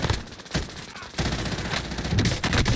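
Dense automatic and burst gunfire rattles through a Call of Duty Cold War match, loud and continuous with a brief lull before intensifying again.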